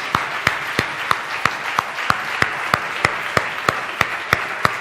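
Church congregation applauding during a sermon, a steady wash of clapping with regular strong beats in a rhythmic pulse, close and fairly loud throughout.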